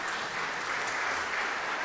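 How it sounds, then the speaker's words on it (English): Audience applause fills a Unitarian service, a steady, dense wash of many hands clapping at even volume throughout, with no voices over it. "And yes, you can applaud for that,"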